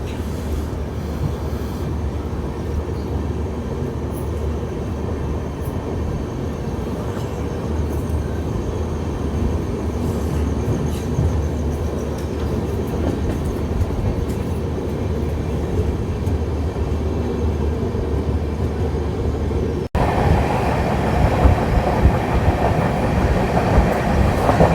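The Kriya Yoga Express rolls steadily on its rails with continuous rumble and clickety-clack, heard from inside the moving train. The sound grows louder and rougher near the end.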